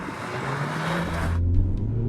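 A hot hatch such as a VW Polo GTI, Toyota Yaris GRMN or Ford Fiesta ST accelerates hard in a drag race test, its engine roaring loud and close as it builds speed.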